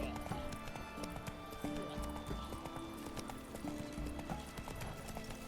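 Horse hooves clip-clop steadily in The Witcher 3, a rhythmic trot to gallop of a mount heard at moderate level alongside game ambience, with a brief whinny and faint background voice.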